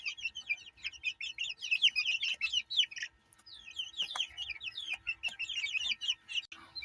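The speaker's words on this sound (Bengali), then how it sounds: "গোল্ডেন শেপার্ড মুরগির বাচ্চা" Golden Sebright chicks chirp busily in cold weather, a dense stream of high, quick peeps in overlapping bursts with a short lull midway before the chorus resumes, fairly close and loud.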